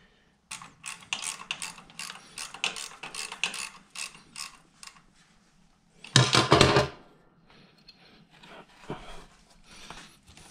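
Hand tools work loose a bent screw on a part being dismantled, producing a run of quick ratcheting clicks and metallic rattles, close and fairly quiet, with one louder clatter midway.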